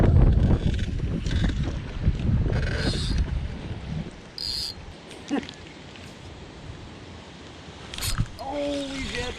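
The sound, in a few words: wind blowing on a lake during bass fishing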